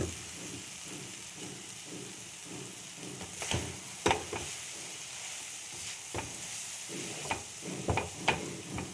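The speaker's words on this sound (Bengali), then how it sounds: "এবার আমি চাউমিনগুলো দিয়ে দেবো, সেদ্ধ করে রাখা।" Boiled chow mein noodles are stir-fried in a pan, giving a steady sizzle with scraping and clinking of a utensil against the pan, several sharper knocks standing out near and clear, with no talking.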